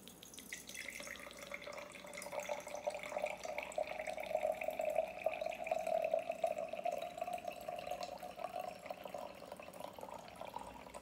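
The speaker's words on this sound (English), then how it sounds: "I hope I can get some water out this jar" Water runs steadily from a jar of frozen water, a continuous trickling pour with a faint gurgle that holds at an even level for about eleven seconds, close by with no talking.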